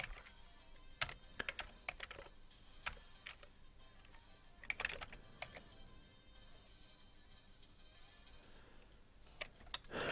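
Typing on a computer keyboard while entering code, with irregular bursts of sharp clicks and keystrokes spread across the clip, fairly close and moderately quiet, with no talking.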